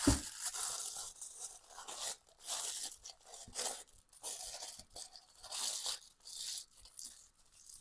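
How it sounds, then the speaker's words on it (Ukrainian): Crisp bursts of aluminium foil being folded and crumpled come in short irregular rounds, close by and fairly quiet, with brief pauses between. "беру прямокутник фольги, складаю двоє"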